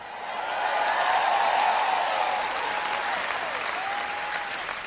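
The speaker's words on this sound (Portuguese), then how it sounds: "Podemos parar aqui e ter uma festa de aplausos." A large audience at a sermon breaks into sustained applause, a steady wash of clapping that swells in the first seconds and holds at a fairly distant, even level, with some faint tonal sounds drifting underneath.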